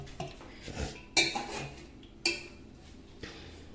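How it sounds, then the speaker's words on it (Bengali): Cooked rice being spooned gently into a large cooking pot to layer biryani, soft scraping and a few sharp metallic clinks of a spoon against the pot rim, close and sparse with quiet pauses between. "আস্তে আস্তে রাইসটা মা দিয়ে দিচ্ছে"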